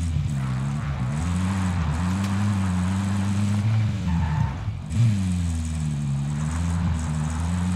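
A car being driven in Call of Duty Warzone, a loud, steady engine drone that rises and dips in pitch as it shifts and accelerates, close and continuous with no talking.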